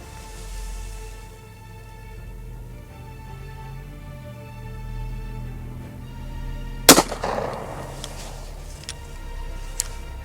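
A single 9mm round is fired at a ballistic helmet on a shooting range: one sharp, loud crack lands midway through a steady low hum, followed by a brief rattling decay and a couple of faint later clicks.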